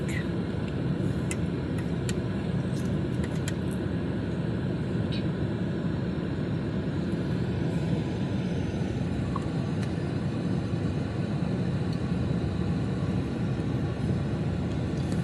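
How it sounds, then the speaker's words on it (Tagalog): City street traffic makes a steady, dense rumble of passing vehicles, continuous and fairly loud throughout with no clear individual pass-bys. "So yan, traffic."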